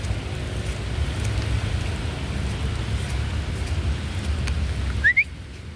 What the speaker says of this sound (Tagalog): Kasi nang walang hinto ang ulan.